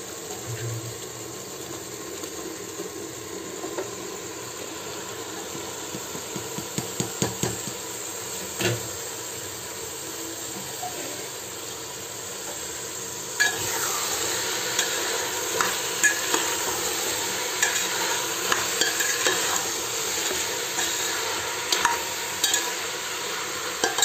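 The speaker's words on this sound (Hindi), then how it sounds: "तड़का हो गया, मैं डाल लेती हूँ घिया" Bottle gourd sizzles in a hot pan after a tempering, likely green chilli in ghee, with a steady frying hiss and scattered clinks of stirring that grow louder midway, no talk.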